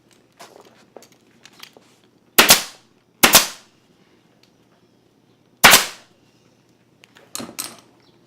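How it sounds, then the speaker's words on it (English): A staple gun fires staples through upholstery fabric into a sofa frame, giving four loud, sharp snaps at irregular intervals, with faint handling noises between them. "We're going to staple this over."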